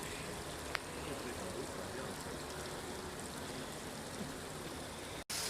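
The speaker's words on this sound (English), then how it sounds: "Look at that waterfall." Steady broadband rush of a waterfall at the Creation Museum, continuous and fairly loud throughout, with no clear voices; a brief click near the end.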